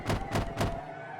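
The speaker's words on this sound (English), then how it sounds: "Shion banged on the door." Three heavy bangs thud against a door in the horror visual novel Higurashi When They Cry, evenly spaced and close, each a deep booming knock that dies away after the third.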